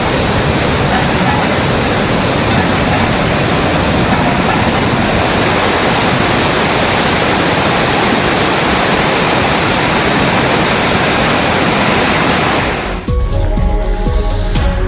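A flooded waterfall swollen by heavy rain roars as a loud, unbroken wall of rushing water that fills nearly the whole stretch, then cuts off abruptly near the end.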